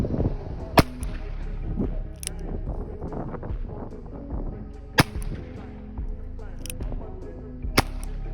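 Four sharp, isolated cracks from a Winchester Wildcat .22 LR rifle firing into drywall, spaced a few seconds apart over a steady low background hum with faint voices.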